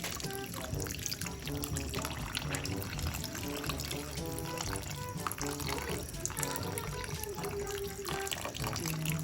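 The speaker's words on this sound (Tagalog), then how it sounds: "So ibubuhos ko na po yung evaporated milk." Evaporated milk pours into a dish in a steady, soft liquid trickle that goes on for several seconds, fairly quiet against a busy kitchen background.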